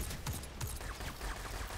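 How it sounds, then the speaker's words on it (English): Explosion in the shooter game Destiny 2, heard as a few sharp bursts and crackling blasts in quick succession, close and moderately loud with no speech over them. "That was explosion."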